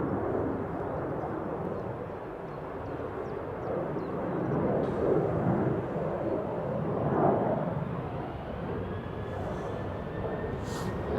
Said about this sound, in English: Here it is, the A320neo flight 461.